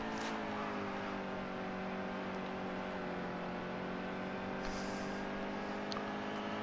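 Steady race car engine drone from NASCAR Heat 2 at Phoenix, a sustained tonal hum holding a fairly even pitch while the car slows through the middle of a corner, loud and continuous with no talk.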